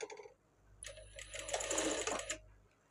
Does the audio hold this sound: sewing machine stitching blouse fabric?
yes